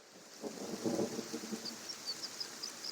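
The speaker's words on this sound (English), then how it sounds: "and it's raining." Rain hissing steadily with a low rumble of thunder in Kenshi, a soft, even wash of weather throughout.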